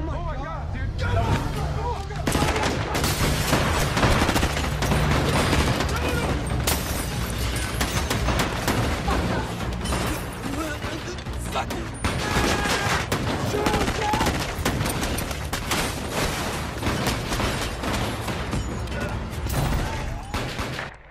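Loud, continuous gunfire from a movie shootout in a hotel, dense bursts and shots mixed with shouting and frantic voices throughout, with a steady low rumble underneath.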